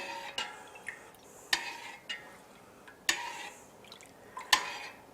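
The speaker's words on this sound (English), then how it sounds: "we're going to go ahead and give it a stir in" A spoon stirs a rehydrating cheese-making ingredient in a pot with an up-and-down motion, making faint, soft liquid swishes punctuated by four or five sharper clinks against the side at a steady pace.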